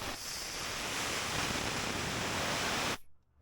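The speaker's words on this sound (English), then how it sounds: "Get the air hose right on that end." Compressed air blasts from an air hose onto a Polaris Indy 600 snowmobile part, a loud, steady, close hiss that runs for about three seconds and then cuts off abruptly.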